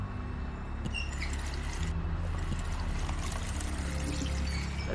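Steady water pouring in The Wolf Among Us, a continuous liquid rush layered over a constant low game hum, close and even throughout with a few faint clinks.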